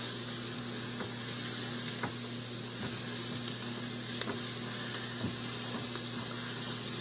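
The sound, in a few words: onions and thyme sautéing in a pot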